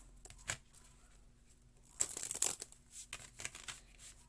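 Shuffling a tarot deck during a reading makes a faint tap, then a papery riffle, then scattered soft card flicks and rustles, quiet and close.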